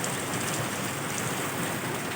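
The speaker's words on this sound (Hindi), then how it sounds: "बारिश हो रही है, छन छन छन छन। छत लगी है ना चादर वाली, तो इसमें ज़्यादा ही पानी की आवाज़ आती है।" Rain drums on a metal sheet roof in a constant dense hiss, loud and close, with no pauses and no voices.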